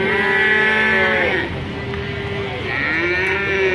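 A young Simmental crossbred bull calf from Kulon Progo lets out long, loud, drawn-out moos close by, two sustained calls with a brief dip between them, with no other sounds competing.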